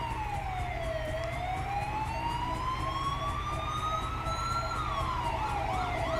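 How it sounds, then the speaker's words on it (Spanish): A police car siren in the video game GTA 5 wails steadily, its pitch sweeping slowly down, up and back down over a low engine rumble, loud and continuous with no talking. "Me deja la sirena puesta"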